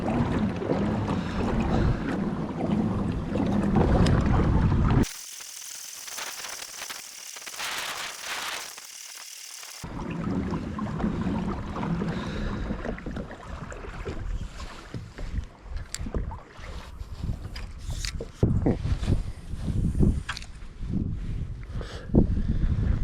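Strong wind over Pawtuckaway Lake roars and buffets the microphone, with a brief stretch of steadier hiss partway through; no one speaks.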